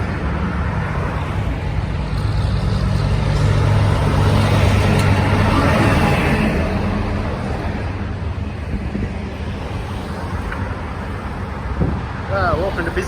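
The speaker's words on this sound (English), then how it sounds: "A few of the Bobbins trucks going through." Bobbins trucks from Pandula rumble eastbound along the Princes Highway through Bairnsdale, a steady close engine and tyre roar with broadband road noise and some wind buffeting on the microphone.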